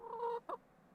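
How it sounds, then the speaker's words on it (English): Two quick clucks from backyard pet chickens, a drawn-out call followed by a short sharp cluck, close and fairly quiet with nothing else around. "Oh, sorry, that's my chickens."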